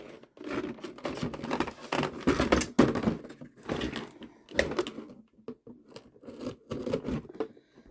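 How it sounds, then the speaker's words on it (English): Scissors snip through tape on a Pokémon Select Charizard toy's packaging, a run of close, crisp cuts and crinkles in irregular bursts with short pauses between them. "Let's just cut that bit of tape there so I can pull that out"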